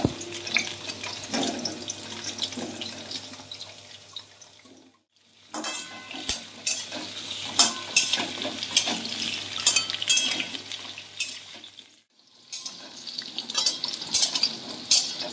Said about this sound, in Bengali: পেঁপেগুলো দিয়ে দিলাম, পেঁপেগুলো একটু হালকা আবার ভেজে নেবো।